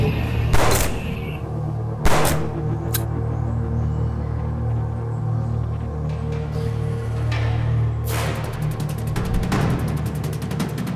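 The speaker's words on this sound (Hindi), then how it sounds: "उनके सर पर गोली मारो।" Gunfire in a Hindi-dubbed sci-fi thriller film, heard as a few sharp, loud shots spaced apart over a steady, dense background score.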